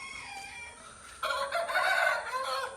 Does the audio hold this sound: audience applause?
no